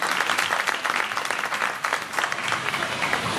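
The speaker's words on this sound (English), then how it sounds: "let's have a round of applause, please, for Chef Ann Kiernan of Paris Style." A festival food stage audience gives Chef Ann Kiernan of Paris Style a round of applause: loud, dense, continuous clapping from a crowd that holds steady throughout.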